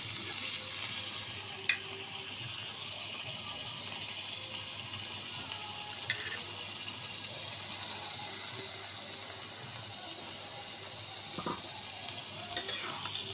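Small freshwater fish fry in oily spiced gravy, a soft continuous sizzle and hiss with a few faint stirring clicks, no talking over it.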